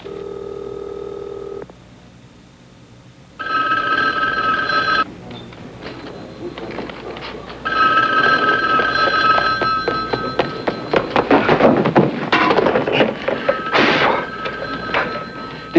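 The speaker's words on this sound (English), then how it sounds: "It's ringing." A telephone rings in a police detective division office, with electronic ring bursts repeating several times at close range over faint background rustle.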